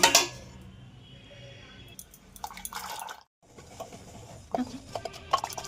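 Boiled dal and leafy greens stirred together in a pot, with wet clinks of a utensil against the pot and soft sloshing, a brief pause midway, then more scraping and clinking up close.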